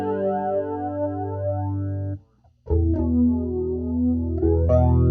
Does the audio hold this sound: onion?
no